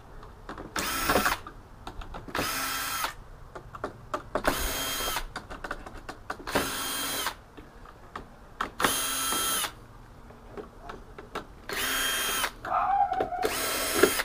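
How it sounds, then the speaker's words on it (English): A power screwdriver unscrewing screws from an NEC PX-42VP1G plasma TV in repeated short whirring bursts of about a second each, separated by pauses with faint handling clicks and rattles, close up with no talk. "Just have to unscrew a few things."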